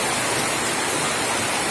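Heavy rain pours over flooded Narsingdi, a loud, dense and unbroken wash of water noise filling the whole short moment with no voices.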